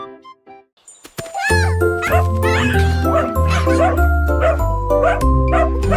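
A small puppy barks and yips repeatedly up close, loud and excited, after a few quiet jingling sounds at the start, with music-like tones underneath, in a children's song.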